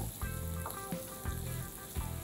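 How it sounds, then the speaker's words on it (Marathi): Six chopped green chilies sauté in a pan for chili garlic paneer cutlets, a soft, fairly quiet sizzle with a few rhythmic utensil scrapes and knocks. "मी इथे 6 मिरच्या घेतलेल्या आहेत, त्याही परतून घेऊया"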